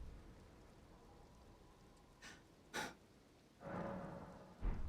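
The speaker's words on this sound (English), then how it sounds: "Oh, and now it's raining. Of course. It's raining now." Rain falls in the video game Elden Ring as a faint, steady hiss, broken by a few brief louder bursts.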